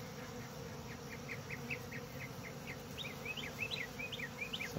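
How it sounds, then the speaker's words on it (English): A steady, low buzzing drone of many honey bees swarming in fall fills the air, with faint bird chirps coming through in the background. "You see all these bees swarming around it."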